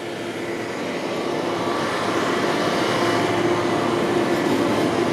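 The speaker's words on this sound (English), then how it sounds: "Hey, there's a T1 on line 2, Bloor Danforth." A TTC T1 subway train on Line 2 Bloor-Danforth in Toronto rumbles past with a steady, moderately loud rolling roar that builds slightly and holds throughout, heard from a street-side walk.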